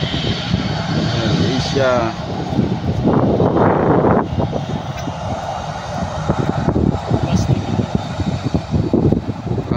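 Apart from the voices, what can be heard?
airplane engine blast at takeoff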